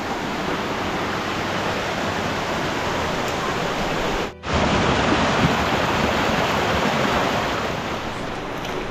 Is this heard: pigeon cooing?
no